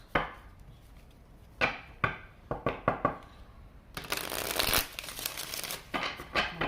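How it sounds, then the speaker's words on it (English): Cards of an oracle deck being shuffled, with a run of sharp riffling flicks and snaps, then a longer dense burst of rapid riffling near the end, close and fairly loud. "I already shuffled."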